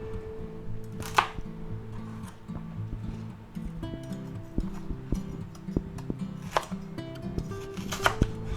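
A knife chopping celery on a cutting board, with a few sharp cuts through the stalks standing out over steady low background hum and faint clatter.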